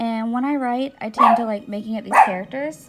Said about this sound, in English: Excuse my little dog, it likes to bark a lot.